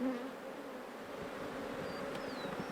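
Wild bees and wasps buzzing in marginal forest, a steady low drone throughout with a few faint, thin insect whines passing through near the end.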